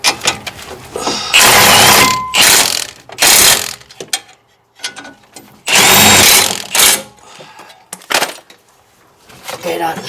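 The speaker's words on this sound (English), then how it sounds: "Now to use my impact, tighten them up." An impact wrench drives the front brake caliper bolts home on a 2016 BMW 320i, firing in several loud rattling bursts with short pauses between them, a voice speaking faintly in the gaps.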